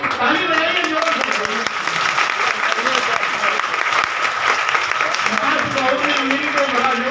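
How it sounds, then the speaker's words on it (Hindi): An audience at a religious satsang gathering claps loudly and continuously, a dense sustained wave of applause filling the room while a voice carries on speaking over it. "ताली बजाइए जोर से"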